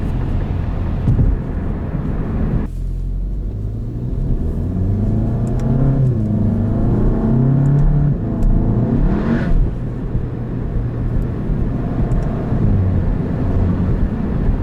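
A Volkswagen Golf GTI MK7 with an aftermarket turbo intake revs hard while its wheels spin, a loud close engine roar rising and falling for several seconds, with no talk.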